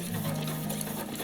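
An 8mm film reel spins rapidly on a hand rewinder with the projector motor switched off, giving a steady, close whirring with a fine regular ticking pulse throughout, loud and unbroken.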